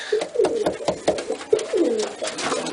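Several racing pigeons coo close by in soft, repeated throaty calls that overlap one another, with a faint background hiss.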